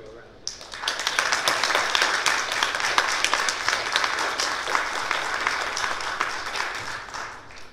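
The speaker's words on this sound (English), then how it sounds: "Let's give her a round of applause." A congregation at a worship service breaks into applause after a brief pause, clapping rising quickly and holding steady before gradually thinning out toward the end.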